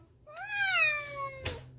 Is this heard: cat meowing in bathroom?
yes